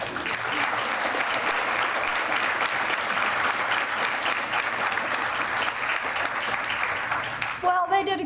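A school-district academy celebration audience breaks into sustained, dense applause from a large crowd, steady and loud throughout before tapering off with a voice at the very end.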